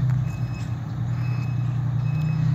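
A fire truck with a Detroit diesel engine backing into station 3 in Narragansett: a steady, close diesel rumble with reversing beeps sounding faintly over it.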